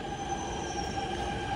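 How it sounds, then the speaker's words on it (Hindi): A Delhi Metro train pulls into the station with a steady, high metallic wheel squeal over a low rumble. The sound is sustained and fairly loud throughout, with no voices. "तो फटाफट मेट्रो आ चुकी है"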